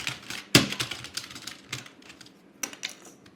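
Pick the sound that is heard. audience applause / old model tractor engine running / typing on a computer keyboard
typing on a computer keyboard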